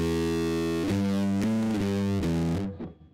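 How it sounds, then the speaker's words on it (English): Harsh, buzzy fuzz-distorted guitar chords from a Guitar Rig software fuzz effect, thick and saturated, changing a few times before cutting off abruptly. "That's a pretty harsh fuzz"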